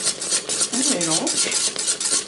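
A spoon scrapes and knocks around the inside of a Cookeo pot as mac and cheese is stirred with onion powder, salt and pepper, giving close, irregular clinks and rubbing strokes with no talking.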